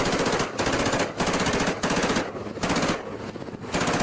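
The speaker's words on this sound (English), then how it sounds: "Sounds like he's got maybe like a saw, like a 249 or something." Bursts of automatic fire from an M249 SAW machine gun during special forces training, about five sustained volleys separated by brief pauses, loud and close, with no voices.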